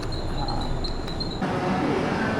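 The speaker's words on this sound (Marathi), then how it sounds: "सो ट्रेन आली आपली" A passenger train arrives at a station, heard as a steady rolling rumble with a thin high whine that stops partway through, moderately loud and continuous.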